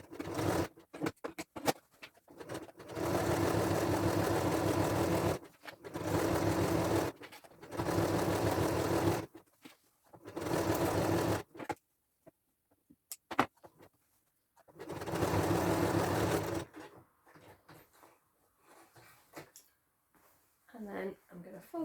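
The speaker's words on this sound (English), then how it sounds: "So I'm going to do a zigzag stitch first." A sewing machine runs a zigzag stitch along a centimetre hem of a copied skirt in repeated bursts of steady whirring, a few seconds each, separated by pauses with brief handling noises.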